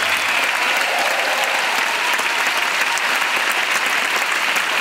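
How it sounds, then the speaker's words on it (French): Sustained, dense applause from a live concert crowd at a show, steady and loud throughout with no voices standing out. "Tout le monde applaudir."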